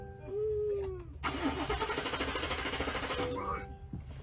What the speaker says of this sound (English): Se quedó pegado el starter.